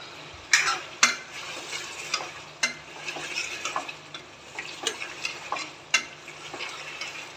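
Chicken karahi with whole spices and green chillies fries quietly while a metal spoon scrapes and knocks against the wok in a loose, irregular rhythm of clanks, over a faint crackle.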